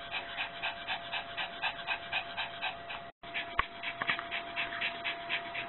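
An anxious dog wearing a Thundershirt pants rapidly and steadily at close range, a rhythmic rasping breath with a short gap and a couple of sharp knocks partway through.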